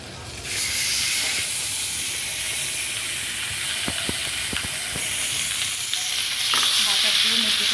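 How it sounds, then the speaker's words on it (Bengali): Chicken frying in oil with a little butter for a chicken kabsa sizzles and hisses loudly and steadily up close, with a few sharp crackles partway through. "বাটার দিয়ে মুরগিটা আমি ভালো করে ভেজে নিব"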